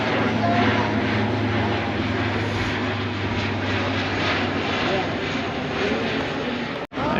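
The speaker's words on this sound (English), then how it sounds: "There goes a plane." A propeller airplane drones steadily overhead at an outdoor car show in Rye, a low continuous hum that fades out near the end, with people talking in the background.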